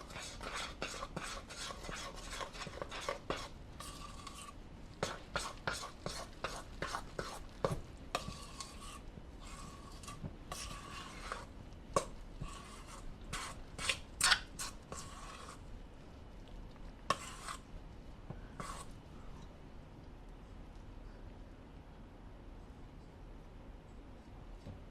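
Bread dough being mixed in a bowl with a utensil, giving repeated scraping and clinking strokes in an uneven rhythm, close and fairly quiet, with no talking.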